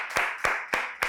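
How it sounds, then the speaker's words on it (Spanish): Four sharp hand claps ring out in a slow, even rhythm, close and fairly loud, from a small group applauding a quiz contestant's point on a summer podcast game show. "un aplauso"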